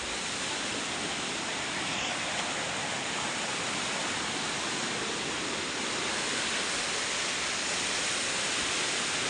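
Steady, dense rushing of water with no letup, a river flowing strongly nearby at Kottiyoor Shiva temple, Kerala, loud and continuous.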